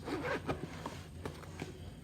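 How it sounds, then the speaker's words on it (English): A zipper on a school bag pocket being pulled open, several quick rasping zip strokes up close, followed by soft handling rustles. "And we're gonna open it up. Wrong zipper."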